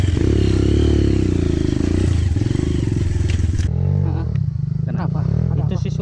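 A motorcycle engine revs loudly and steadily on a dry road, a dense low roar that drops and shifts in pitch partway through, with people talking over it.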